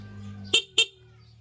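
A stock vehicle horn tested with two short, sharp beeps in quick succession over a low idling hum, close and fairly loud.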